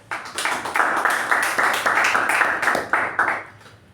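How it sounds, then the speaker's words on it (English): A round of applause at a Toastmasters club meeting: a room full of people clapping densely and steadily for about three seconds, then tapering off into quiet. "A round of applause to Toastmaster Shreya."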